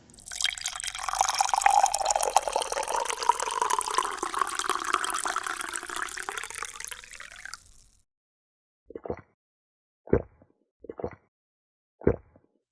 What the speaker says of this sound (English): Kaneki pours a hot mug of coffee from his old thermos